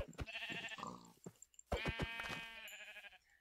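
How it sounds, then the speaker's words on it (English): Sheep bleat in the Minecraft video game, several wavering, nasal calls in a row, fairly close and clear with no talking over them. "I found sheep!"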